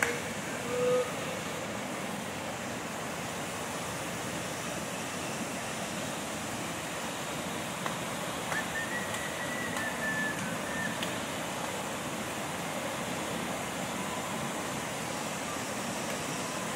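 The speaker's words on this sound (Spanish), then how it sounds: "Llegamos a la cascada." Waterfall in Chubut, Patagonia, a steady broadband rushing roar heard from a distance, constant and moderately faint throughout with no voices.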